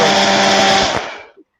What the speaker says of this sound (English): Let me see if I can open it with the chainsaw.